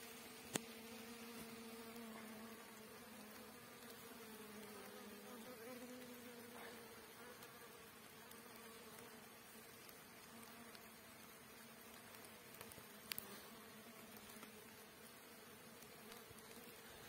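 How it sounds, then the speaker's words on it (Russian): A continuous, droning hum of many bees buzzing close by, steady and fairly faint, with a couple of brief clicks. "Пчелы гудят."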